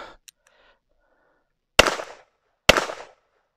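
A Llama XV .22 pistol fires two sharp, loud shots about a second apart at a shooting range, each with a short decaying tail, after a few faint clicks.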